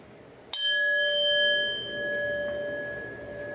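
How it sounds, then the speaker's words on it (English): A single bright notification bell chime strikes once and rings out with a long, clear decaying tone, alone without talk. "hit that notification bell"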